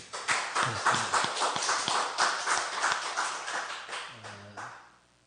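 Church congregation clapping in a brief burst of applause, moderately close and quiet overall, rising quickly then fading out after about five seconds, with a short voice near the end.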